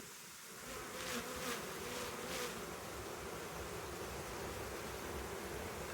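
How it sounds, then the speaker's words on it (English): Honey bees in a hive on the first inspection of the year, with the queen piping; a dense, steady buzzing hum of many insects fills the whole stretch, close and fairly loud, with no voices. "some loud piping, which is sort of like a little humming noise that the queen makes"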